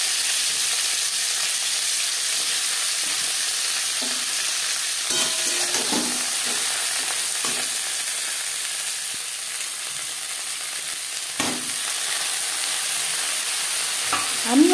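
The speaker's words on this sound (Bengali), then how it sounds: "পনির ভেজে নেওয়া কড়াইতে আবারও তেল দিয়েছি। এবার দিয়ে দেব ব্রকলি বা সবুজ ফুলকপি।" Broccoli florets sizzle and fry in hot oil in a wok, a steady bright hiss with occasional clatters and scrapes of stirring, no voices.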